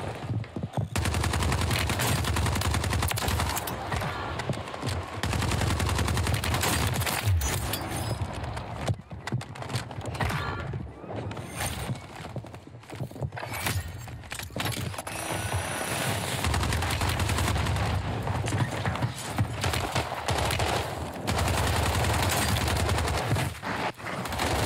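Rapid, sustained submachine-gun fire from the FJX Horus in Call of Duty's Rebirth Island, loud and close with dense overlapping bursts, shell clatter and battle noise running nearly the whole time without pause.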